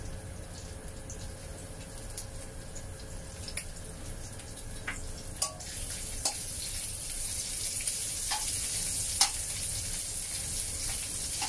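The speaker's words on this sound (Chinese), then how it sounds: "咁咧就将啲虾干摆落去爆一爆。" Dried shrimp stir-frying in hot oil in a wok make a soft, continuous sizzle, punctuated by scattered light taps and scrapes of a spatula, all quiet and without speech.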